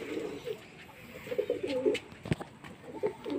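Pigeons just let out of their house coo repeatedly on a spring morning before being released into the sky, producing soft, throaty rolling coos close by over faint background noise and a few light knocks.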